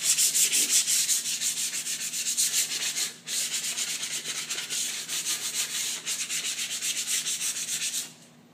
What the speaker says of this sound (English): taking hand pressure on the 120 grit sandpaper, take the edge off those freshly sanded edges